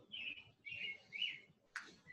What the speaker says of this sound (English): Some of these birds are very loud.